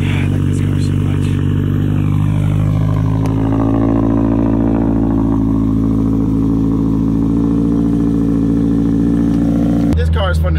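Subaru Legacy fitted with Honda parts, engine revving hard and loud at close range, a strong sustained buzzing drone that climbs in pitch, then drops abruptly at the end with crackling pops.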